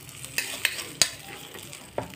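Peanut chutney being stirred in a hot pan after a tempering, with a few separate clinks and scrapes from the spoon over a soft sizzling hiss.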